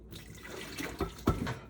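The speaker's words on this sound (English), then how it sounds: "Put in 2 cups of water." Two cups of water poured into a cooking pot in a home kitchen, a quiet trickle broken by two short, louder splashes near the end.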